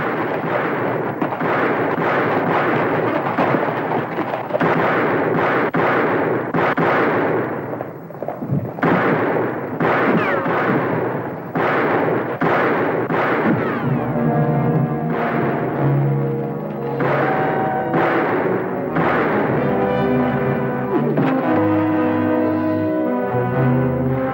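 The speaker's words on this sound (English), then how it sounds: "Which way you shooting, Jason?" A western shootout with dense, rapid gunfire, many overlapping loud shots and blasts in quick succession, continuing throughout with some echo and layered dramatic sound.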